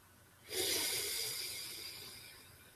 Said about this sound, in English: When you exhale, listen to it leave your lungs.